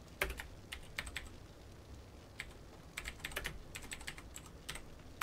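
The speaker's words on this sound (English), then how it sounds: "So that way I can type it exactly." Fingers tapping out an item name on a computer keyboard in quick bursts of close, crisp keystrokes separated by brief pauses, with no talk.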